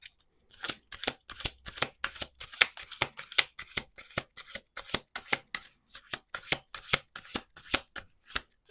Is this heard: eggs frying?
no